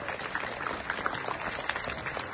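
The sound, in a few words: students applauding themselves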